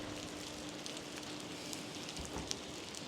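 Light rain patters softly and evenly at Canfranc railway station, a faint continuous hiss with scattered small drips, no voices.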